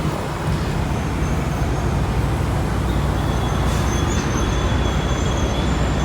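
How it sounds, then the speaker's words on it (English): Big diesel truck engines rumble at a truck stop at night, a loud, unbroken low idling drone with faint distant tones above it and no talking. "The sound of those big diesel engines."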